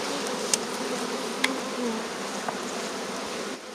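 Honey bees buzz steadily around a hive frame during an early-season inspection of a top super, a continuous dense hum with a few brief sharp ticks over it.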